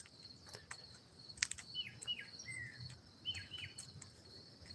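Crickets chirp faintly in an outdoor night setting, soft scattered trills and a few brief high chirps over a low background hiss, with no talking.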